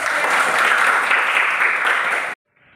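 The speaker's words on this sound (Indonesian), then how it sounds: "Oke, tepuk tangan dulu." A school class claps together, a dense, loud burst of applause lasting just over two seconds that stops abruptly, followed by near silence.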